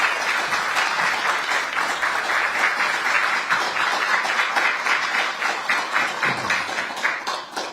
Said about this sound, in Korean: 큰 박수를 모셔보겠습니다.